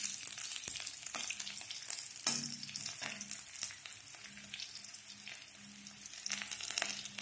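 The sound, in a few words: onions frying in a pan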